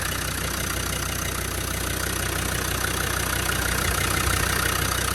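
A Land Rover Defender 90 TD5 County station wagon with a rebuilt top end and new turbo idles steadily, its diesel engine giving an even, continuous rumble and whine, close and loud throughout with no voices.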